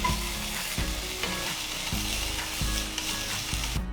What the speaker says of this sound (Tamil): இதுல 1 டீஸ்பூன் இஞ்சி பூண்டு விழுத போட்டு கிண்டுங்க.